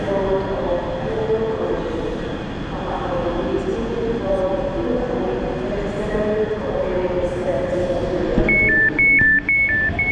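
Steady rumble of a Scottish passenger train interior, leaving Edinburgh, with a low hum, ending in a rapid repeating electronic chime as doors signal.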